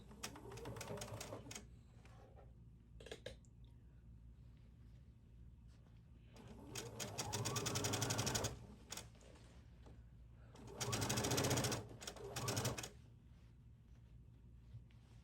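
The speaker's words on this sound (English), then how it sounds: "So here we're sewing the collar onto the neckline." A sewing machine stitches a Hawaiian shirt, running in several bursts: a short run at the start, a longer steady stretch around the middle, and another run near the end, with quiet pauses between.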